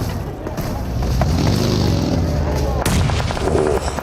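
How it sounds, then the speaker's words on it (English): Grenades explode during a competitive PUBG Mobile match, building into a loud, sustained rumble of blasts with a sharp burst near the end. "nades on target"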